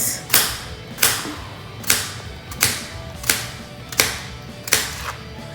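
Knife chopping zucchini on a cutting board: seven sharp, evenly spaced chops about 0.7 seconds apart, each a crisp blade strike with a thud against the board, close and clear with no talk.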